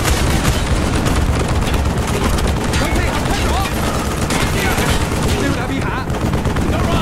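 Rapid machine gun fire in the Black Ops Vietnam village campaign, a continuous dense burst of shots filling the whole clip at close range, with shouting voices mixed underneath.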